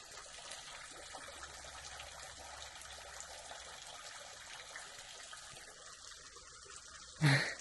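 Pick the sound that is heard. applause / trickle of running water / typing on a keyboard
trickle of running water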